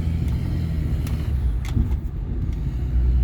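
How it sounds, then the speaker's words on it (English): A turbocharged truck engine idles with a steady low rumble and a faint high turbo whine, running continuously with no voices. "Turbo actually sounds way different than the one that was originally on here."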